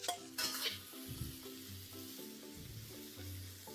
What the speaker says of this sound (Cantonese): 料頭爆香之後，直接拍燒肉落去